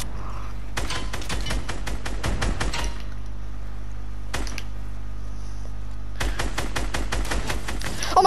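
Rapid video-game gunfire rattles in three dense automatic bursts, loud and close, with a short gap between each volley.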